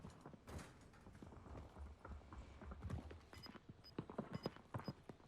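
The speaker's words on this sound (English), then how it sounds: "I hear footsteps." Footsteps in the shooter game Warzone, a run of quick, uneven thuds and clip-clop taps, fairly close and moderately loud, with a couple of faint high beeps near the end.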